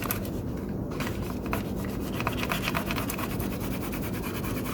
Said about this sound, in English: And then I can squeegee that bubble down.